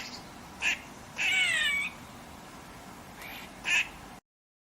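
Adult squirrel calls over steady background hiss: two short chirps, a longer wavering cry, then another chirp, fairly faint.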